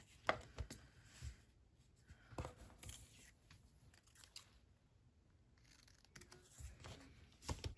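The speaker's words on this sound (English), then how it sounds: "Okay, I'm gonna cut this off just a little bit." Scissors snipping scrap paper for journal embellishments, a few short crisp cuts in separate bursts with quiet pauses between, close and fairly soft.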